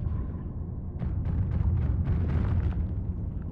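Submarine weapons firing at a naval mine in the game Barotrauma: a heavy, rumbling barrage of low booms with a cluster of sharper bursts in the middle, loud and sustained.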